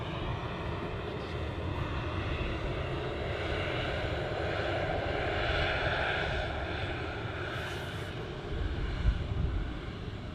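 A Ryanair airliner taxiing out at Manchester Airport, its jet engines making a steady, broad whine and rumble at moderate distance that holds level with slight swells throughout.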